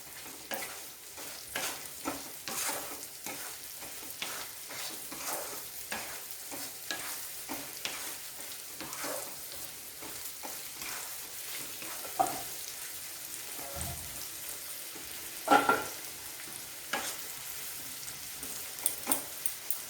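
Sago pilaf with potato and cauliflower is stirred in a frying pan over medium heat, giving a soft steady sizzle with repeated scraping strokes of the spatula, fairly quiet and close, a few louder knocks near the end.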